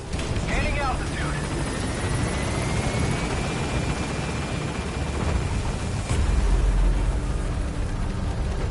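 Helicopter in Metal Gear Solid V: The Phantom Pain climbing after pickup, a steady close rotor and engine roar running throughout with brief voice fragments early and a deeper low rumble swelling near the end.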